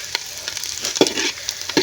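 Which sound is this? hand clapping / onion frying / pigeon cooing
onion frying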